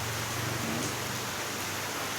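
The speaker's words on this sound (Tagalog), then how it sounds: "Umuulan po rito." Steady, dense rain pours down outdoors in a flat continuous hiss, close and uniform, with no voices or other sounds over it.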